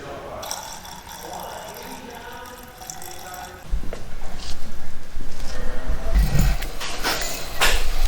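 Engine coolant pours from a container into a Mk3 car, a trickling liquid stream that turns into a louder gurgling fill partway through, with someone talking faintly at times.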